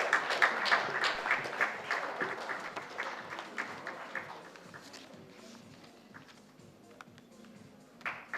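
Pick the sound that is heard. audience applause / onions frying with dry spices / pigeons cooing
audience applause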